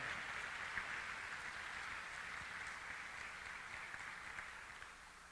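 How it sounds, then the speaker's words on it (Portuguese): Applause for Jesus from a church congregation, a steady wash of many hands clapping that holds fairly even throughout and fades slightly toward the end, with no speech over it. "Dá uma salva de palmas a Jesus, nosso maravilhoso Redentor."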